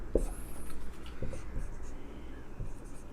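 Chalk or marker strokes on a board during a chemistry lesson, a few short scratchy scrapes and taps spaced irregularly, close and fairly quiet against a hushed room.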